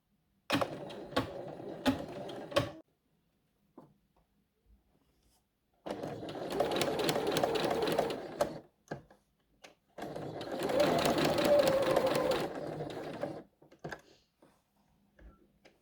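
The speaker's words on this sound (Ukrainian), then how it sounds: "Тепер вам потрібно прошити на швейній машині, починаючи звідси і закінчуючи ось тут." A sewing machine stitches dress straps in two sustained runs, each lasting a few seconds and sharing a steady mechanical whir. Shorter stops and starts come before and after, with quiet gaps between the runs.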